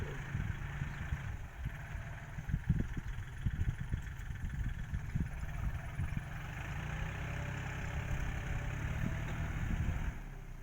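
A Kubota L4018 tractor ploughs soft soil in a paddy field, its engine a steady mid-range drone throughout, with faint clunks and knocks from the implement; no one speaks.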